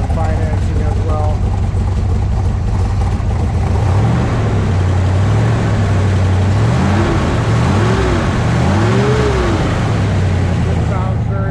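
A healthy-sounding classic car engine idling steadily, with a low rumbling drone throughout and some rising and falling pitch sweeps from light revving in the second half.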